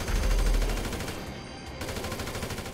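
Rapid automatic gunfire in the online shooter game GTA V Online, a steady rattling burst of shots that runs continuously and fairly loud.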